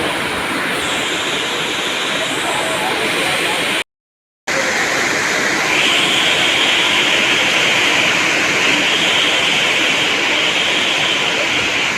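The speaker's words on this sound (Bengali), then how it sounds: "ভীষণ বৃষ্টি হচ্ছে" Heavy rain pours down as a loud, dense, unbroken hiss filling the whole stretch, cut by one brief silent gap, with no voices.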